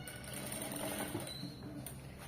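A sewing machine runs steadily while stitching a side joint on a garment, a continuous mechanical whir with rapid needle clatter, fairly close and alone throughout.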